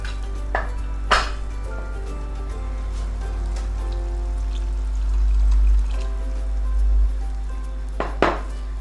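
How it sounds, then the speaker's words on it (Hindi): Water is poured into a pot of kala chana gravy in a kitchen, a soft low splashing pour under a steady background hum, with a few sharp clinks of utensils against the pot. "इसमें थोड़ा सा और पानी हम डालेंगे और उसको कवर करेंगे"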